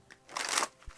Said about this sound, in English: Last shuffle right here.